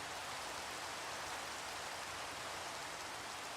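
Steady rain in the video game Minecraft, a faint, even hiss of falling drops with no breaks, alone and without speech.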